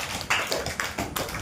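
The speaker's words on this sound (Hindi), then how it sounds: "ये ताली दो" Claps from students in a classroom, a few uneven bursts of hand-clapping spread across a short stretch, fairly close and moderately loud.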